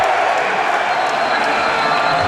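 Spectators in a college basketball arena during a Kent State at Bowling Green men's game, a loud, continuous wash of crowd noise and cheering close around, with a commentator's voice over it.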